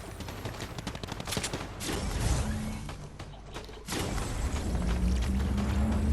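Rapid bursts of video game gunfire with dense crackling shots, rising in intensity and continuing steadily throughout, loud and busy with mechanical clatter.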